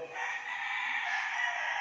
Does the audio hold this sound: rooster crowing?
yes